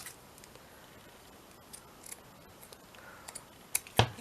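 Scissors cut a piece of paper in half for a double-pocket page-flip craft, making faint scattered snips that end in a sharper, louder close cut.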